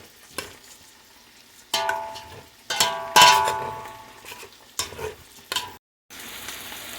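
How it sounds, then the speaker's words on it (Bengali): Washed rice is stirred into sizzling spices and softened tomato in a pan for home-style bhog khichdi, with bursts of frying hiss and scraping stirs in uneven strokes, close and fairly loud, separated by quieter gaps. "এবারে অ্যাড করে দেবো ধুয়ে রাখা চাল। ভালো করে মশলার সাথে মিশিয়ে নেব।"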